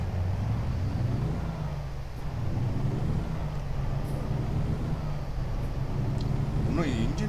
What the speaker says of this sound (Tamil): இன்னும் இன்ஜின் சவுண்ட் நல்லா பண்ணிருக்கலாம்.